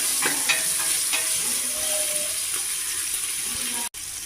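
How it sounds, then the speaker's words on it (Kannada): Chopped tomatoes fry in a pan for a mutton chops dish, a steady close sizzle with occasional stirring scrapes and clicks, constant throughout apart from a brief dropout near the end. "ಹೀಗೆ 2 ರಿಂದ 3 ನಿಮಿಷ ಫ್ರೈ ಮಾಡ್ಕೊಳ್ಳೋಣ"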